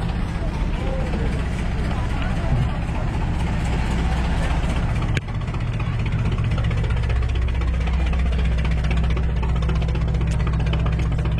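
A boat engine idles and runs with a steady low rumble on the water of the Sundarbans, heard up close under someone talking throughout.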